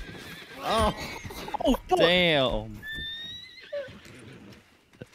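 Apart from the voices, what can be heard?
horse neighing and hooves after being punched, Red Dead Redemption 2 video game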